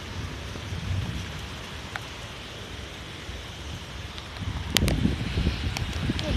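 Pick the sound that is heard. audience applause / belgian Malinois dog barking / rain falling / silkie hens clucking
rain falling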